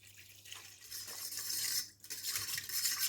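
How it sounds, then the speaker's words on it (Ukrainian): Warm water pours into a bowl of pressed yeast and sugar while dough is being started for stuffed pampushky, a soft splashing trickle that swells, briefly stops, then resumes quietly, close by with no talking. "даємо сюди теплої води не гарячої"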